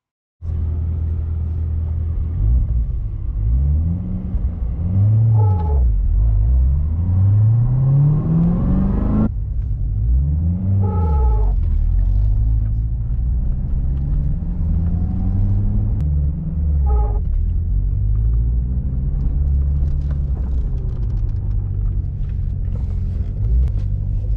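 Low engine drone from a 2017 Corvette Z06 with a pulsing, wavering rumble that rises and falls repeatedly, a twin-disc clutch rubbing hum coming and going under the steady engine noise regardless of revs or gear.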